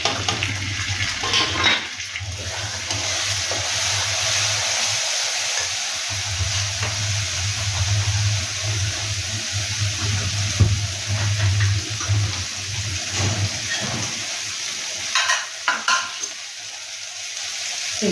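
Spice paste of ginger, chili, cumin, coriander, salt and turmeric sizzles steadily in a pan for soybean curry after a splash of water, with a continuous frying hiss and occasional scrape of a stirring spoon.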